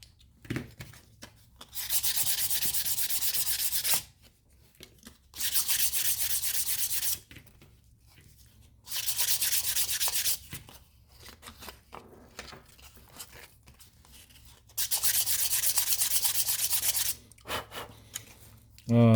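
Rough, scratchy sandpaper rubbing against leather in four long bursts separated by quiet pauses, close and fairly loud.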